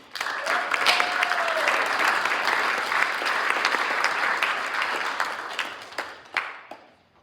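An evening audience applauds as a speaker walks onto the stage, with dense, steady clapping from a sizable crowd that fades toward the end, and a faint voice briefly heard over it.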